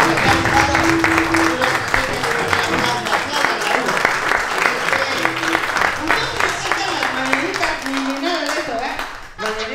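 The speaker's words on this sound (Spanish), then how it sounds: "Fuerte el aplauso para él." A crowd at a clown show in Mexico City claps for Hugo, loud, continuous applause with a few sharper individual claps, while voices and faint music-like tones sit underneath throughout.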